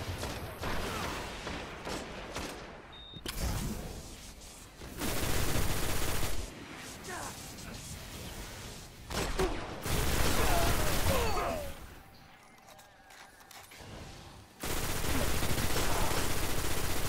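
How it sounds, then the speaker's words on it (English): Auto rifle fire in the video game Destiny, repeated bursts of rapid gunfire separated by short lulls, loud and close, with game effects between volleys. "Guys, I got this auto rifle. This thing's a monster."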